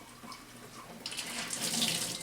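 Tap water runs steadily into a sink to rinse a Vitamix juicer part, a continuous close splashing stream that grows louder and brighter partway through.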